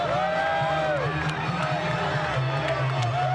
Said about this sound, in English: Look at the crowd, folks. Nothing but pure electricity.